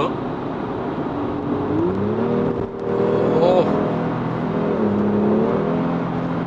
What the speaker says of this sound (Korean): 엔진 소리가 살아나죠.